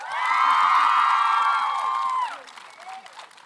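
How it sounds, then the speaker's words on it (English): A crowd at a Canadian television festival applauds and cheers as Carmilla cast members come out, loud dense clapping with whoops that holds steady for about two seconds, then drops to a few scattered claps and faint voices. "Give them a round of applause."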